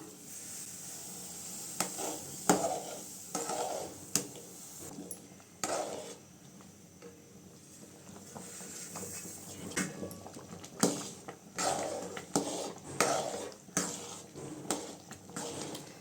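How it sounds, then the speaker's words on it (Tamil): Wheat rava is stirred into boiling water in a pan for kichadi, with repeated scraping and tapping strokes of a spoon against the metal, soft and close, with a faint simmering bubble underneath and no talk. "ரவையை போட்டு கிண்டிக்கலாம்"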